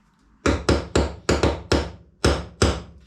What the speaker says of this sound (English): it's just a matter of getting our wee center punch